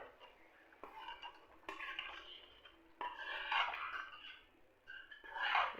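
A spoon stirs and scrapes mash dal with masala as it roasts in a pan at home. Soft, close, intermittent scraping strokes come in uneven bursts, with a faint sizzle underneath.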